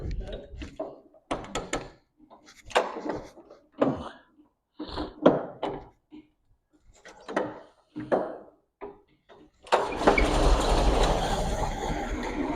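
Speech with intermittent knocks gives way to the engine of a 1921 vintage Todmorden bus firing up, settling into a loud, rough, close running roar for the final few seconds.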